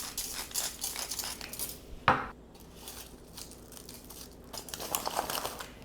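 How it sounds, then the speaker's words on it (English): Garlic drizzled with olive oil and salt being wrapped in aluminum foil before roasting: close crinkling and rustling of foil with one sharp crackle, fairly quiet, without talking. "I'm going to put it into foil."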